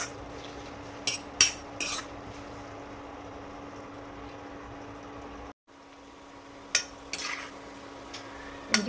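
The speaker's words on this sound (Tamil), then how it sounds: "இஞ்சியே இந்த எண்ணெயிலே வறுத்துக்கலாம்." Chopped ginger fries in oil as a soft, even sizzle with a low background hum, broken by several sharp clinks and scrapes of a utensil against the pan and one brief drop-out partway through.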